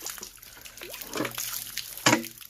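Water trickles and drips out of a found safe, faint and close, with small splashes and a brighter gush near the end.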